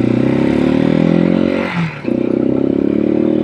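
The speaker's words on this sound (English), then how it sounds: "You got to give it a little gas, keep the engine going." A Janus Halcyon 250 motorcycle engine revs steadily and loudly, dipping briefly in the middle before picking back up with a throbbing, rhythmic drone.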